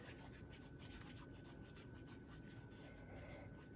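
A dark blue seam binding ribbon is crumpled and wrinkled by hand close up, producing a continuous soft rustling rub with faint rhythmic scrunches, quiet and alone.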